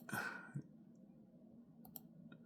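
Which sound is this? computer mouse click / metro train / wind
computer mouse click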